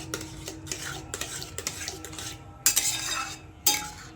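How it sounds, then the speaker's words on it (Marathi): A spoon scrapes and stirs through carrot halwa with fresh cream in a metal pan, giving repeated clinking, scraping strokes with a few sharper knocks against the pan's side, close and clear with no talking. "आणि ही फ्रेश मलाई टाकूया। याला चांगलं हलवून घेऊया।"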